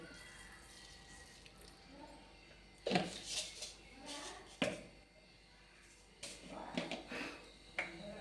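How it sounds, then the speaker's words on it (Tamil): Mustard seeds spluttering in hot oil while cooking puli keerai, scattered sharp pops and crackles in uneven bursts, fairly close but quiet overall. "கடுகு பொரியட்டும்"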